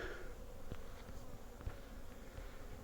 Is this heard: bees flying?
yes